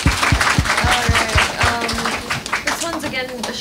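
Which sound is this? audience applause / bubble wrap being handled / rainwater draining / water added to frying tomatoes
audience applause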